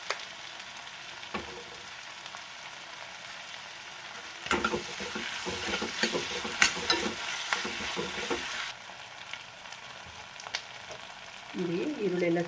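Sliced onions fry with ginger garlic paste in a pan for a restaurant-style paneer kurma, a soft steady sizzle broken by bursts of spoon scraping and stirring against the metal pan, with a faint voice near the end.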